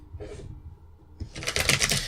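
A deck of cards is shuffled during a live reading, a short soft riffle followed by a louder, rapid fluttering riffle, close and alone.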